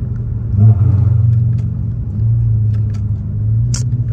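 A car engine revs steadily on a downshift, with a deep, loud rumble that rises and falls across a few seconds, heard from inside the car with no talk.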